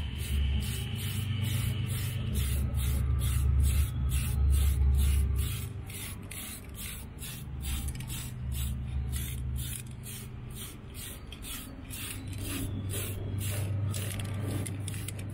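Spray paint hissing in repeated short bursts as a thick coat goes onto a HoBao Hyper VT RC car body, each puff close and steady over a low background hum.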